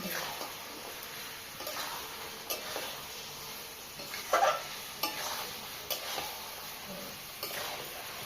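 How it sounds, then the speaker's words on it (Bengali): Potatoes stir-fried in spiced oil for alur dum, a spoon scraping through them in a slow, regular series of strokes over a faint steady sizzle, fairly quiet and close, with no voice. "আলুটাকে দিয়ে ভালো করে কষে নিয়ে"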